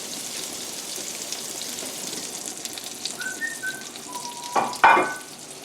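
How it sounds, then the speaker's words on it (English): Dried onion encrusted halibut fries in a pan with a steady close sizzle, a few thin whistling tones rising over it and a louder burst of sputtering near the end. "And that fish cooking over there. I'm just going to cook it just a couple of minutes each side."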